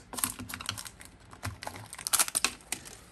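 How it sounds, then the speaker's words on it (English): Plastic toy egg shell being cracked and broken apart during a toy unboxing, a close series of crisp clicks and crunching snaps, loud and irregular, with no voices. "It's that plastic that just kind of breaks up."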